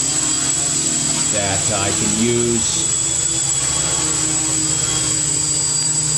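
An FPV quadcopter hovers hands-off on a PID tuning stand, its motors holding a steady high-pitched buzzing whine throughout, close and loud, while someone talks briefly over it.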